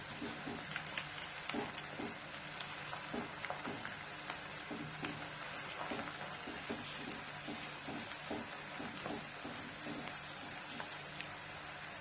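Mushrooms frying in oil for roadside-style kalan, a faint, continuous crackling sizzle with scattered small pops throughout, no talking.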